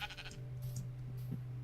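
A sheep bleats in the Minecraft mod TerraFirmaCraft, a faint wavering call over a steady low game hum with soft background tones.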